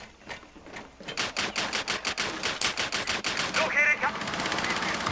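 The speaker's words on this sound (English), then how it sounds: "They're firing at me." Rapid bursts of automatic gunfire in a Rainbow Six Siege match, fired in fast rattling strings that sound close and loud and go on almost without a break, with a voice talking briefly under them.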